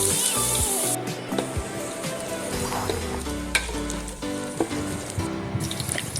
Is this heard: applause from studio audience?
no